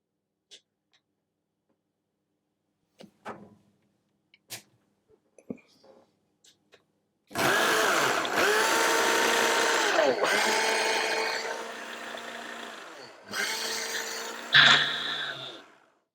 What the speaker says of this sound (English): I'll just give those a quick pulse just to get those mixed together quite nicely.